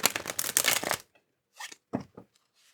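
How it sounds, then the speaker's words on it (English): A tarot deck is riffled in a quick, close burst of papery card shuffling for about a second, then a few softer separate card taps and slides follow. "Okay, shuffle the tarot deck."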